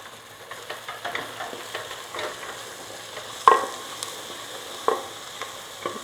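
Carrots, beans and peas sauté in a pan for white sauce pasta: a soft, continuous sizzle with light, regular taps of stirring and a couple of sharper clinks against the pan.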